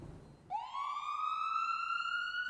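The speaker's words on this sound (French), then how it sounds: "Une sirène qui veut dire « cédez-moi le passage »." A rising electronic wail from an ambulance siren on duty, starting abruptly, sweeping upward and then holding a loud, steady high tone close by.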